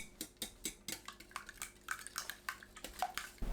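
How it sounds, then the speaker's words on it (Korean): Eggs for a steamed egg dish are whisked in a bowl, with a quick, uneven run of light clinks and taps from the utensil against the dish, fairly faint and close with no voices. "계란을 풀어주세요."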